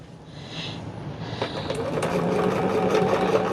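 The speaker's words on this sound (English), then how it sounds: "and sew through the center" A sewing machine stitches through the center of a fabric picnic caddy, its motor gradually building into a steady, moderately loud whir with faint clicks, and no voices.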